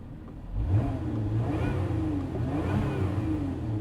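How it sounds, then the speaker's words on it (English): A 2024 Lotus Emira with a 6-speed manual idles and revs gently in Tour exhaust mode, a low throaty exhaust rumble with a couple of mild rises in pitch, moderately close. "So here's what the exhaust sounds like in Tour."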